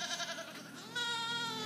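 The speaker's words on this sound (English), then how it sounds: "Spanish goats?" Spanish goats at a garden park bleat close by in a short, wavering call that swells louder midway and holds steady.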